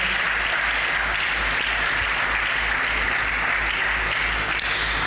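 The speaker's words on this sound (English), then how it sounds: "A round of applause for him." A conference audience applauds a speaker being invited onto the stage, loud dense clapping sustained evenly across the whole stretch in a large room.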